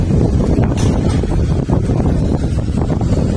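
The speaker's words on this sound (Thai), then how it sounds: "โอ้ลมแรง" Strong outdoor wind buffets the microphone with a loud, continuous low roar and gusty rumble lasting a few seconds.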